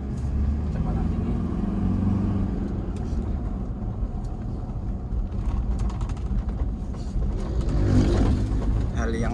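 A double-cab pickup fitted with Old Man Emu suspension rumbles along at high speed on a ring road, a steady loud engine and road drone with a slight rise in revs near the end.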